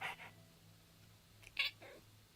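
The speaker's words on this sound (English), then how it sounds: "Hey, cat." A cat meows a few short, faint times in the Nancy Drew: Ghost Dogs of Moon Lake video game, with quiet ambience between the calls and no one talking.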